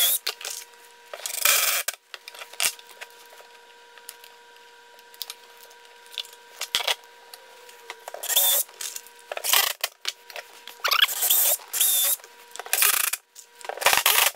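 Screws being driven into the wooden legs of a homemade folding table, heard as intermittent bursts of drill or driver noise separated by quieter handling sounds and gaps, fairly close.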